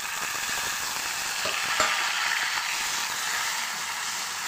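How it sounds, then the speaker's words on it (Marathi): Tomatoes hit a hot pan of golden fried garlic in a village kitchen, giving a steady close sizzle with scraping stir strokes and a brief louder burst as they go in, no talking. "यामध्ये टाकून घेते मी टोमॅटो"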